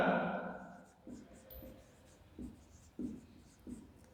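Chalk or a marker taps and scrapes in short strokes on a board during a biology lesson, a few spaced marks close by after a brief fading voice.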